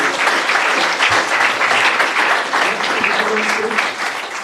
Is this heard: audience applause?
yes